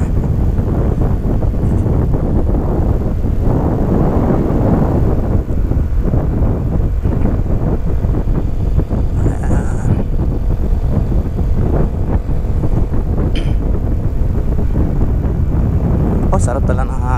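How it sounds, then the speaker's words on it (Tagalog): Heavy wind buffets the microphone on a motorcycle ride near Kaybiang Tunnel in Ternate, a loud continuous roar with a rider's voice talking over it. "Sarap pala ng hangin. Lamig talaga."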